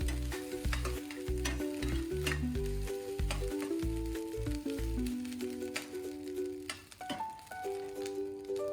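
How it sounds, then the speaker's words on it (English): Fish sauce is drizzled into a hot pan and sizzles while it is stirred, a busy crackling fry under repeated scraping and clacking of the utensil against the pan, fairly close and with no one speaking. "drizzle in half a ladle of fish sauce and keep stirring. As the fish sauce hits the heat"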